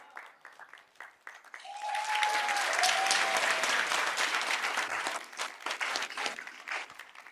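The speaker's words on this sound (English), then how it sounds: "Let's give him a round of applause." A seminar audience applauds a speaker, starting with a few scattered claps, swelling into loud, dense applause, then thinning back into scattered individual claps.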